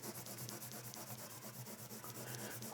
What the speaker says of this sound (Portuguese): Vou usar borracha mesmo.